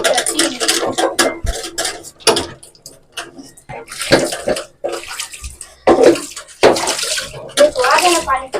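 Water splashes and runs into a container in uneven, sloshing bursts with pauses between, close and fairly loud, mixed with faint clinks of dishes or utensils.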